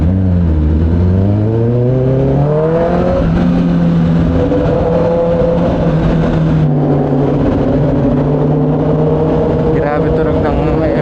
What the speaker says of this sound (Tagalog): Grabe tunog ng MT-10. Nagwawala.